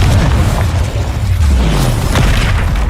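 Spell blasts from combat in Hogwarts Legacy on PS4 Pro, a loud continuous booming rumble of overlapping explosions filling the whole moment.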